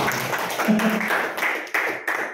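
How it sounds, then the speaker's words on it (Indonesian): Audience clapping at a Volten International orientation workshop in Bandung, a steady patter of applause with a few louder claps toward the end. "Tepuk tangan boleh Bapak Ibu"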